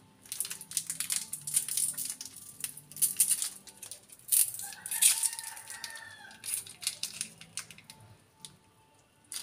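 Chicken bouillon cubes being crumbled and dropped into a cooking pot of chicken soup with sayote, heard as faint, close crinkling and crushing rattles that come in uneven bursts.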